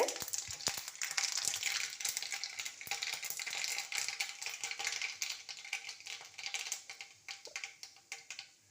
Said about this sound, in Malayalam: കടുകിട്ട് കടുക് പൊട്ടുമ്പോൾ